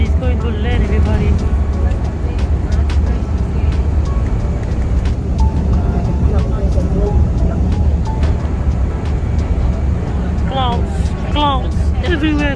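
Airliner landing on a trip to Bali, heard from inside the cabin as a loud, steady engine and airflow roar throughout, with voices, including a child's, talking over it.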